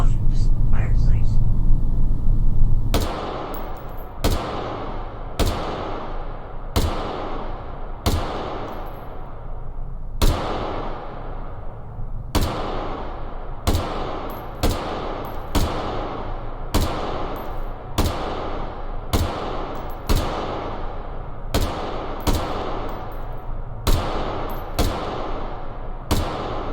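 A semi-automatic rifle fires at a 100-meter target, with about twenty loud, sharp reports in a steady cadence of roughly one per second; each crack rings briefly. Low murmuring voices are heard at the start.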